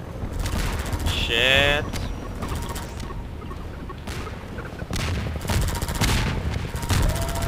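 Bombs from a helicopter burst in Half-Life 2 gameplay, loud blasts arriving amid busy game noise with a rising whistle or siren-like sweep early on; a voice curses once.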